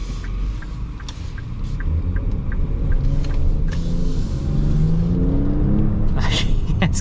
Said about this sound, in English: Show you guys a little acceleration here.